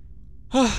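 A single short, breathy sigh-like inhalation from a character in a Parasite Eve II cutscene. It comes after near silence, sounds close and clear, and has no speech around it.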